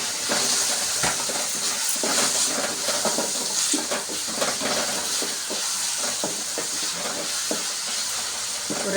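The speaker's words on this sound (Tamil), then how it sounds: "பீன்ஸு, கேரட்டு, கேப்சிகம் போட்டு நல்லா பபிள்ஸ்லாம் வந்து நல்லா வேகுது பாருங்கள் எண்ணெயிலேயே" Beans, carrot and capsicum frying in oil for mushroom fried rice, a dense continuous hiss and bubbling sizzle with scattered crackles and pops, steady and close throughout.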